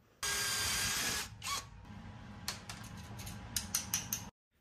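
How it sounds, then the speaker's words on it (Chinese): A power drill fitted with a glass bit bores dry into a quartz stone kitchen countertop, starting with a loud steady whine that turns into a rougher, chattering grind before stopping abruptly. "石英石配玻璃钻头， 这样可以干打，水都不用加。"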